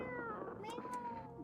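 Cat meowing in the video game Who Is Human: a single drawn-out, tonal meow carried over continuous game background sound, close and moderately loud.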